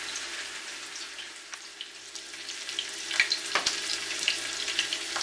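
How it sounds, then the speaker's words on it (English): King fish sizzles in hot canola oil, a steady close hiss with scattered sharp pops and crackles that grow busier toward the end. "I'm going to start frying"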